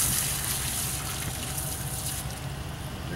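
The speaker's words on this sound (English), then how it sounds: "You can see the water coming through the tube and comes out the bottom end." Water flows through a tube into a dual-component sealant mixer gun, a steady gushing hiss that stays fairly even and slowly softens, with no voices.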